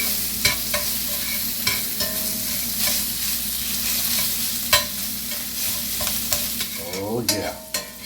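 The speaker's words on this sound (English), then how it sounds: "Chop up your sausage and brown it real good. I love the sound of sizzle." Steady crackling sizzle of sausage frying in a pan, with scattered pops and scrapes of stirring throughout, close and continuous.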